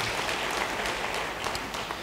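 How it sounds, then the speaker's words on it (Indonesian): A church congregation gives a brief round of applause during a sermon, a close, even patter of many hands clapping together without a pause and with no voice on top. "Yang percaya, beri tepuk tangan bagi dia."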